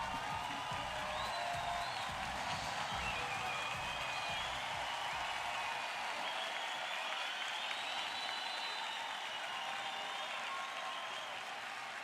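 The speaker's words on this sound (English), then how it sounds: "You heard the crowd applauding them as they go off" Fans at the Rio 2016 Paralympics women's wheelchair basketball game between the Netherlands and the USA applaud at half time as the teams leave the court, a steady mass of clapping with scattered whoops that carries on across the whole stretch.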